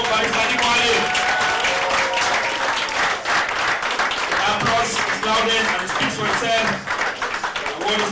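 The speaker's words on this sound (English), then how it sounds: "The applause is loudest" Audience applause at an award presentation for a peace crusader award in Cameroon: dense, sustained clapping fills the whole stretch at steady volume, mixed with voices and cheers from the crowd.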